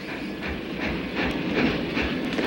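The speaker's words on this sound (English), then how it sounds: "Here's the train." A train rolls in on rails at a station, a steady loud rumble with a faint clickety-clack and a light hiss, with no voices over it.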